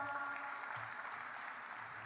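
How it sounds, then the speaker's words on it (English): An audience at a corporate forum in Hyderabad claps together, a soft, steady wash of applause heard from some distance, quiet and even for about two seconds. "Give her a cheer. Round of applause."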